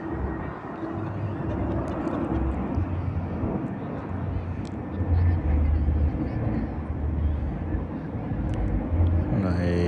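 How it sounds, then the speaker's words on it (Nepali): A steady engine drone hums through the scene, like a small plane overhead, with a person talking throughout and some wind buffeting the microphone. "यो प्लेन उडाएको चाहिँ सायद सिक्ने मान्छे होला, प्र्याक्टिस गरेको कि"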